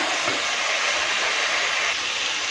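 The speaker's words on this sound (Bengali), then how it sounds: "মশলাটা ভালো করে ভাজা হয়ে যাবে" Spice paste for a shrimp and taro stolon curry fries in a pan, giving a steady, loud, close sizzling hiss that does not change for the whole stretch, with no voices.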